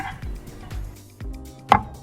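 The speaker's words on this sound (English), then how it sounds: "I carefully cut the banana with a knife into thin plates." A knife chops a banana into small cubes on a board, four soft separate thuds spaced evenly, the last one slightly sharper, heard close and with nothing else in the background.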